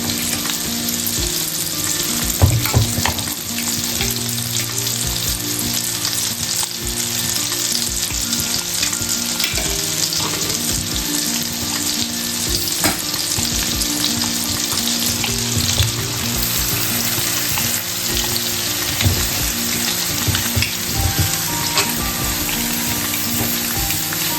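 Osso buco beef sears in a hot pan, a dense continuous sizzle and crackle with occasional sharper pops and stirring scrapes, steady and close with no talking.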